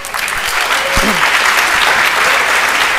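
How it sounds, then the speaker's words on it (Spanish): An audience at a workshop on basic iPhone development breaks into loud, dense, sustained applause that continues evenly throughout, with a brief low thump near the middle. "Un aplauso, por favor."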